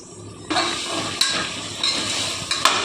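Vegetables for sambar sautéing in a pan, a steady sizzle with a few sharp clinks and stirring scrapes, close and fairly loud.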